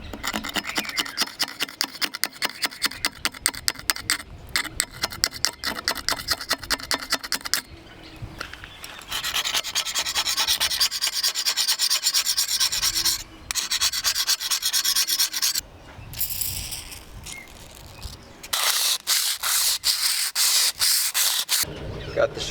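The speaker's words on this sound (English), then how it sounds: "First step to getting it back in is just going to be cleaning up the prop shaft," A boat's grimy prop shaft is sanded by hand in quick, rhythmic rasping strokes, close up, in bursts separated by short pauses.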